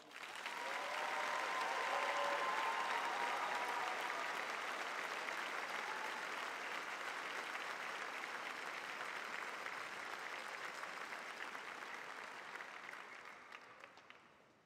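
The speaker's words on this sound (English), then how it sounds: "please join me in a big round of applause." Audience at the West Michigan Aviation Academy 2022 high school graduation ceremony applauding, a dense sustained wash of clapping that holds steady for most of the stretch and then gradually fades near the end.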